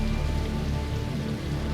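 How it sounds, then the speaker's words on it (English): Heavy winter rain pouring steadily on a highway, a dense, continuous wash of drops with no pauses or voices. "Heavy winter rain is wreaking havoc on Highway 1."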